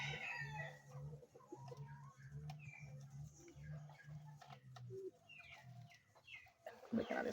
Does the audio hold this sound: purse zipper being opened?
no